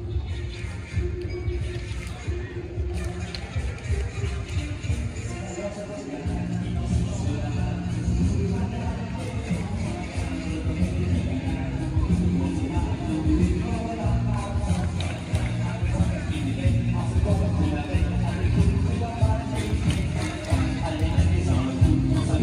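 A crowd of people and children shouting blend into a steady hubbub at a resort hotel by the pools at night, heard from a distance. Voices and clatter keep rising and falling throughout.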